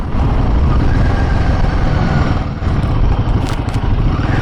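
A Royal Enfield Himalayan 450 motorcycle being ridden on the road, its engine drone loud and steady with clattering mechanical and wind noise, dipping briefly near the middle before surging again.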